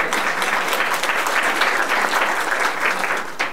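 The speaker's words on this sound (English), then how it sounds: "We should give her a round of applause." A lecture audience gives a steady round of applause, dense and continuous with many hands clapping at once, holding at an even level for several seconds before easing slightly at the end.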